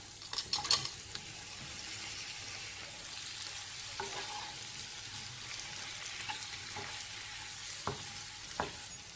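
Boiled raw banana pieces frying in a pan for a Chettinad valakkai varuval masala, a soft steady sizzle broken by scraping and clinking taps as a ladle stirs them, no talking.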